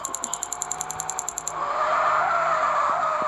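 A car skidding through a turn in the game Freeroam City, a sustained tire screech rising after a run of rhythmic mechanical ticks, loud and close with no voices.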